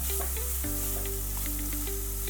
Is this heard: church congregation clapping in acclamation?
no